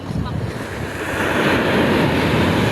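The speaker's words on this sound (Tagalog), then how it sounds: "ang lalakas ng alon" Strong ocean waves crash near a house, a loud, continuous roar of surf that builds and thickens over a few seconds, heavy with wind buffeting the microphone.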